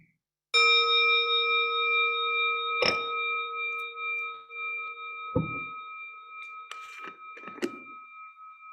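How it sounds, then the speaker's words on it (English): A meditation bell rings in a guided lovingkindness meditation, a clear sustained tone that fades slowly over several seconds, followed by a few light knocks and faint rustles. "Gonna ring the bell."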